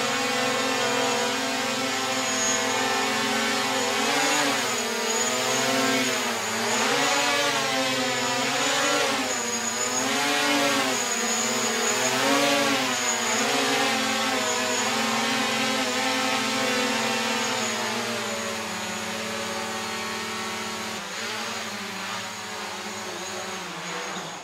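A DJI Mavic Pro drone hovers and flies carrying a heavy load, its propellers making a loud, continuous buzzing whine that wavers up and down in pitch as the motors strain, close by with no talking.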